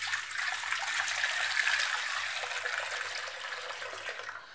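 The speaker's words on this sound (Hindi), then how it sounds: "और उसके बाद में सारा दूध जो है हम इस टाइप से डाल" Milk is poured into a vessel over yogurt starter, making a steady, fairly quiet liquid rush and splash that lasts several seconds.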